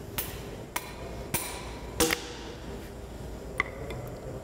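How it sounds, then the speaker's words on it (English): A mash hammer taps an expansion anchor down through a metal fixture: four sharp metallic strikes spaced roughly half a second apart, then a lighter tap, close and clear against a quiet background. "Now, using the mash hammer, install the anchor through the fixture"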